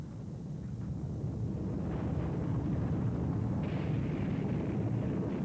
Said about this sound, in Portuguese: O estrondo da barragem de artilharia podia ser ouvido no outro lado do Canal da Mancha